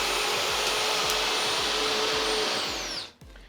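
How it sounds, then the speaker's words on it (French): A Cecotec Conga Rockstar 2500 robot vacuum drones loudly and steadily with suction at high power while rolling over a carpet, a rhythmic thumping beneath the whine, before the motor sound drops off abruptly near the end. "Et dès que je vais passer sur le tapis, il va accroître. Je sais pas si vous l'entendez, il a accru sa puissance de succion."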